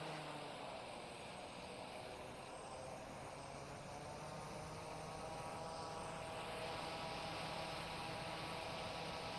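Airliner thrust reversers roaring in the X-Plane 11.50 flight simulator during landing, a steady loud broadband jet rush that holds for the whole stretch and swells slightly near the end.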